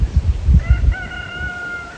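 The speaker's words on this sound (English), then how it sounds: "And they have a rooster." A rooster crows at a trailside cafe on the Bibbulmun Track on a cool morning, one drawn-out crow rising clearly over low rumbling and footsteps in the second half.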